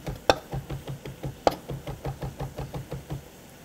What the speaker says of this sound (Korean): 짜고 남은 새우살은 자 다져주세요.